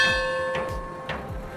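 A notification bell sound effect chimes two bright ringing strikes with sustained metallic overtones, clear and close over a faint background.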